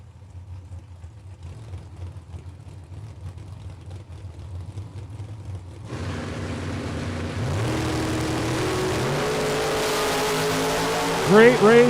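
Two drag racing cars, a Pontiac Invader and a 1965 Chevy Malibu, launch and race down a drag strip, engines building from a low idling rumble into a loud, sustained roar that swells toward the end.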